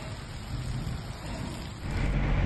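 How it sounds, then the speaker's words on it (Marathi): Heavy rain falls at Deulgaon Gada, a dense, steady hiss of downpour that swells louder toward the end, with no voices. "देऊळगाव गाडा येथेही जोरदार पाऊस झाला असून"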